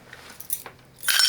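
Keys drop and jangle into a small metal Beech Lane locking key vault, a few light clinks followed by a sharp metallic clatter as they land inside the box, close up with no talk.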